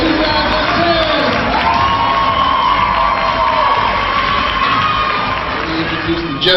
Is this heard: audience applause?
yes